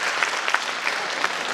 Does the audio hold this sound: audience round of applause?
yes